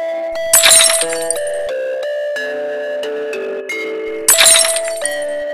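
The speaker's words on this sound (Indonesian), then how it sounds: "Kenapa terdengar suara pecahan?" Glass shatters twice in a Gacha Club animated story, with loud crashing bursts near the start and again toward the end, both over a steady synthetic musical tone.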